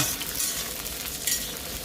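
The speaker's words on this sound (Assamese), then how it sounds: "পিঁয়াজ জলকীয়া মাংস একেলগে যাতে ফ্ৰাই হৈ যায়" Onions, chili and meat frying together in a pan: a steady, dense sizzle with stirring scrapes, loud and close, with no voices.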